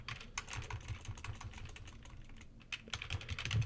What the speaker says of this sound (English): Not very good at typing today.